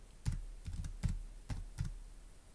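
Someone types on a computer keyboard while setting up AutoCAD, six quiet, close key clicks in irregular bursts with near silence between them.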